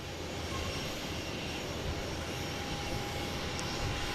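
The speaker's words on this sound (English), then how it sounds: "JetBlue coming in from Richmond." A JetBlue Airbus A220 jet landing at Boston Logan International Airport, heard as a faint, distant, steady roar that holds evenly throughout.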